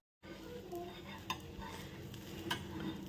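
Dosa batter made from ration rice, spread in a hot pan with a little oil, cooking with a steady broad sizzle and a couple of light clinks of a utensil, no talking.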